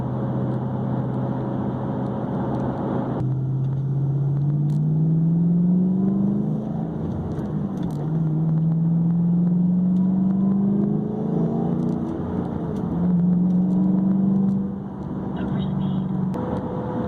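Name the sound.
Shelby GT500 car driving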